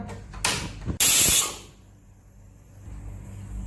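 Two sharp bursts of hissing steam from a pressure cooker whistle while cooking dal, the second louder and longer, fading into a soft background hum.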